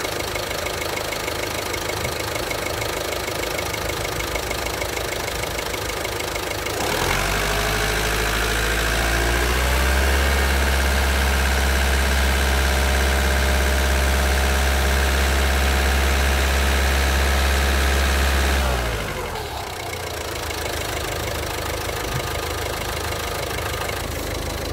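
A car engine under test of its mass airflow sensor is raised from idle and held at about 2000 rpm, a steady close hum that climbs, holds for around twelve seconds, then drops back to idle.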